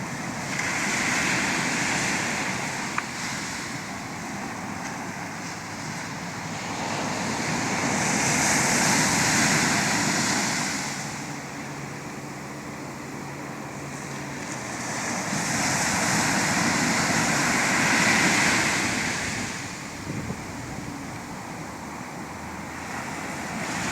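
Ocean waves break on a Maui beach, with surf rising and falling in two long, slow swells of roaring wash under a steady backdrop of wind.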